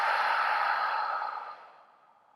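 One person lets out a slow, deep exhale during a guided core breathing exercise. The breath is close and airy and fades gradually toward the end.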